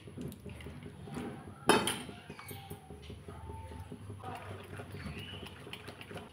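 Milk is poured into pitha batter made with grated coconut: a soft liquid trickle and stirring, broken by one sharp clink of a utensil partway through, over quiet kitchen background.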